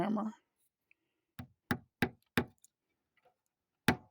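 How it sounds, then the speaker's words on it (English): A flat hammer taps a nail into wire in five sharp, evenly spaced knocks, then one more after a pause, close and clear in a quiet space, following brief talk. "He's going to put a nail in it."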